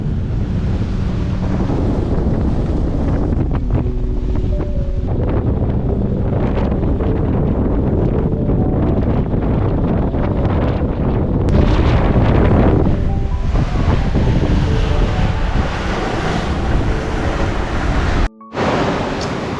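Strong wind of about 22 knots roars across a sailing boat at sea in New Zealand, buffeting the microphone with loud, gusty rumble over a constant wash of waves, briefly cutting out near the end.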